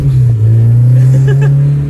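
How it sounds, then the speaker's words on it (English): A K24-swapped Honda Civic with a custom three-inch exhaust idles and revs with a deep, throaty exhaust rumble, steady and close, with a brief rise in pitch. "this car sounds way better with the three-inch"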